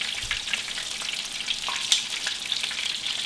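Hush puppies sizzle and crackle steadily in hot frying oil, a dense frying hiss up close with occasional pops.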